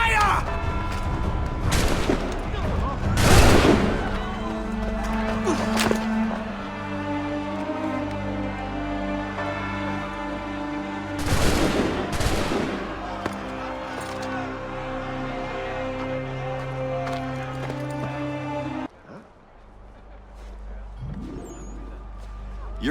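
Musket volleys in an Assassin's Creed game: several sharp, loud gunfire bursts, some spaced seconds apart, over a sustained low orchestral drone, followed by a quieter stretch.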